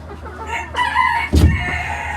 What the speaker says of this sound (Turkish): mükemmel bir tavuk ırkı silver braker